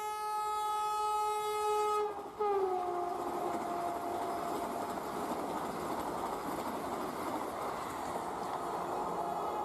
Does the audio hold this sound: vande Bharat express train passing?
yes